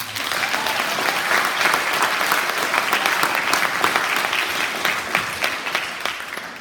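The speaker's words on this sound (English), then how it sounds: "just y'all give it up for Miss Mesner" Sustained, dense applause from a school audience at a middle school fall sports assembly, clapping for Miss Mesner. It stays loud and steady throughout, with no voices rising above it.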